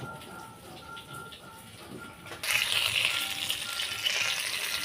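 Fish frying in a pan, with a steady broadband sizzle that swells louder partway through and continues as a dense, close hiss.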